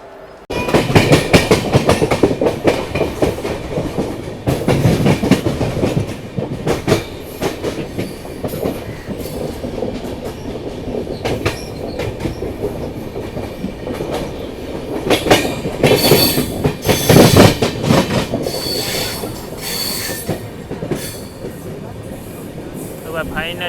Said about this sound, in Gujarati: ટોટલ 3 એન્જિન સાથે ચાલશે હવે આ ટ્રેન.